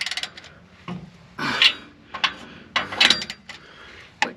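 Wrench work on the exhaust bolts of a 1968 Ford Thunderbird with a 429 Thunderjet big block: a handful of short metallic rasps and ratcheting bursts, close and moderately loud, separated by brief quiet gaps.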